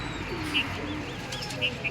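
Close cooing of a black Chinese pigeon, a few soft throaty calls over a low hiss, with faint chirps mixed in.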